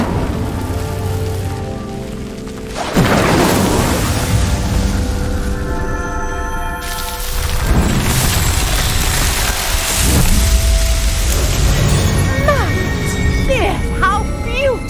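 Incendio fire spells cast in Hogwarts Legacy burst out as several loud whooshing, crackling blasts at irregular intervals, each followed by rumbling debris over a steady backdrop of game ambience.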